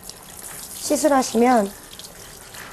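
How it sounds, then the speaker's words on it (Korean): Running water from a salon shower tap rinses hair in a steady, even hiss, with a voice speaking briefly over it. "수압을 이용해서 충분하게 헹궈 주시는 게 좋습니다."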